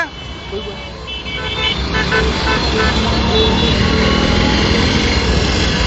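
A rally of many motorbikes and cars arriving in a town street, engines droning with repeated horn toots over a steady loud roar of traffic, with a voice talking over it.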